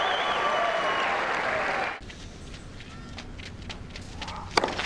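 A tennis crowd at the Rio Open in Rio de Janeiro bursts into loud, sustained applause and cheering, which drops off abruptly after about two seconds to scattered claps and murmur.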